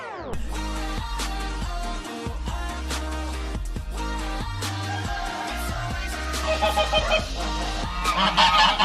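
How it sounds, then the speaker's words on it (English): Geese honking loudly and repeatedly on a Filipino cacao farm, a dense chorus of harsh overlapping calls that grows busier and brighter toward the end, with no talk. "these geese are saying hi to the visitors"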